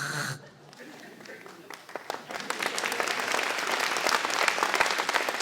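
Audience applause at a French local-television comedy show. It starts thin after a brief voice, then swells into loud, sustained clapping from many hands that grows stronger toward the end.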